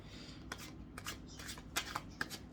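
Tarot cards shuffled by hand: a series of soft, irregular flicks and slides of cards, close but quiet, with no voices.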